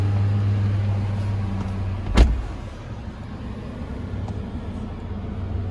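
A Chevrolet Colorado ZR2 pickup's engine runs at a steady low idle, with one brief louder burst partway through before settling back into an even rumble.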